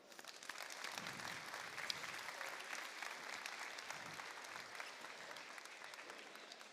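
Audience applauding at a PNW District robotics competition event in Bonney Lake, a sustained, even roar of many hands clapping in a large hall, somewhat distant and steady throughout.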